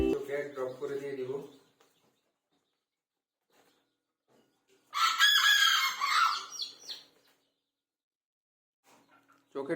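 Bantam chickens handled into a cardboard box for Ranikhet vaccine eye drops squawk and cluck in one loud, harsh burst midway through, after someone talks briefly at the start; the rest is near silence.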